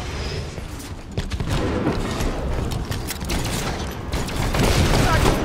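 Rapid gunfire and mechanical weapon clatter in the shooter video game Halo 5, a dense, continuous barrage of shots and impacts with faint voices mixed in.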